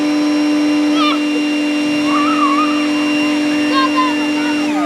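A PowerSmart 40V battery leaf blower fitted with a nozzle runs with a loud, steady whine and roar, while people talk faintly over it.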